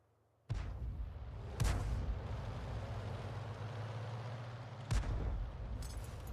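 Grille self-propelled artillery in World of Tanks firing, a sudden heavy boom followed by a second blast and a third later on, each leaving a loud rumbling roar of engine and battlefield noise between them.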